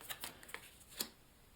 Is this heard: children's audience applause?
no